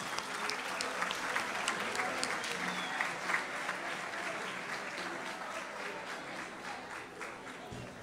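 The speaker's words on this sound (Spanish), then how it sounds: "las recibimos con un fuerte aplauso" Audience applause at a social organization presentation event, sustained dense clapping from a crowd lasting several seconds at moderate loudness, fading slightly toward the end.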